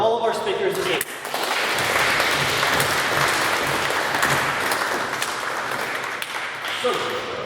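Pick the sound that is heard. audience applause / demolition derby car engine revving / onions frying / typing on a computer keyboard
audience applause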